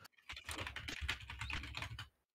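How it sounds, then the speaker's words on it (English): Fast, clicky typing on a computer keyboard, a dense run of crisp close keystrokes lasting about two seconds before stopping, with no voices. "I am a very fast clicky typer."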